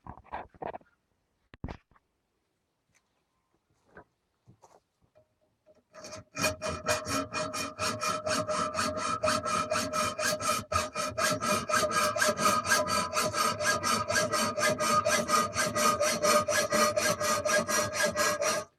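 A hand saw cuts a metal solar panel mounting bracket clamped in a vise, starting with a few isolated clanks and taps before a long run of steady, rapid rasping strokes, loud and close, without any talk.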